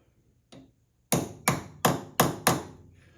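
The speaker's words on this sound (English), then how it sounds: "mark this plate for the shafts that go through it with my handy little center punches here" A small hammer strikes a center punch against a steel plate five times in a steady rhythm, sharp metallic clicks ringing close by, after one lighter tap.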